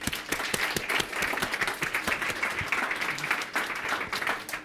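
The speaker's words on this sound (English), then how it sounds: "So round of applause for Tom." Audience applause for a speaker at a Google Firestarters talk, lively and fairly close, with distinct individual claps audible within the steady clapping throughout.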